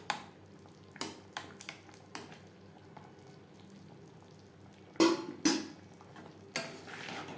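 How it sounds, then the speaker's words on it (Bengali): A spoon scrapes and knocks against a pan while a thickening sweet mixture with ghee and cardamom is stirred for Labong Latika, faint irregular clinks and scrapes over a soft background hiss. "এইভাবে অনবরত নাড়তে হবে, না হলে তলা লাগবার সম্ভাবনা থাকতে পারে।"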